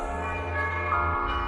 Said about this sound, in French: Il fabrique des orgues et des cloches électroniques.